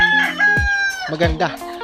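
Backyard chickens cluck and a rooster crows close by, loud and layered, with several birds calling over each other in a short burst.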